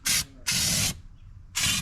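Aerosol can of weld-through coating sprayed in three short, loud, hissing bursts, two brief ones around a longer middle blast, with quiet gaps between.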